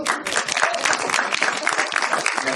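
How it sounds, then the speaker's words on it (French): An audience at a debate claps in a short burst of close, crisp applause, with individual hand claps distinct within the rapid, uneven rhythm. "Ça fait 2 fois qu'on t'applaudit."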